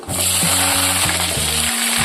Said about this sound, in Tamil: மூணும் நல்லா எண்ணெயில் பொரிஞ்சிருச்சு